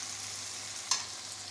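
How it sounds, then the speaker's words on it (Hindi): Five or six green chillies frying in a pan as they are stirred, a steady close sizzle with one brief scrape partway through. "इसको भी 1 आधा सेकंड ऐसे हिलाएंगे"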